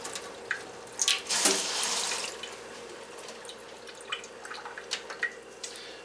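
Water sprays and splashes in short bursts from the outlet of an ITEHIL ITS 100G-HW water purification system, then trickles and drips quietly; no talking.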